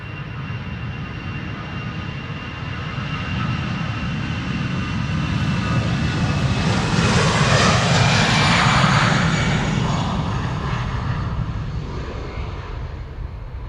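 A jet airliner roars through its takeoff at Amsterdam Schiphol Airport, a loud broadband rumble and whine swelling to a peak near the middle and slowly easing as it climbs away, with no voices.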